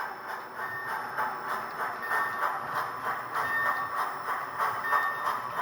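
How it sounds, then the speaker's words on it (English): A model train on a layout rolls through a ladder track, giving a steady, fairly quiet mechanical whir and rhythmic clicking over the whole stretch with no talk. "let's go ahead and push this train through the ladder here at XB"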